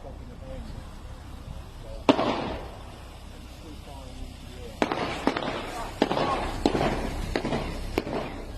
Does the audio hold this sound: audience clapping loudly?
no